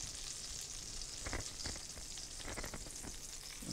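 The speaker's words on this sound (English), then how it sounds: "The butter is sizzling." Steady, close sizzling and crackling of walleye fillets frying in hot butter in a pan, with occasional louder pops and spatters, no voices.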